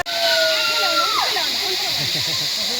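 A waterfall rushes in a steady, loud, constant hiss, heard during a group cycling ride, with voices and high whistling tones over the roar.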